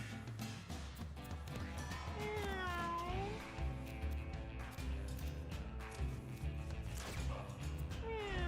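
A cartoonish cat meows repeatedly in a video game, several rising and falling mews standing out over busy game music and effects.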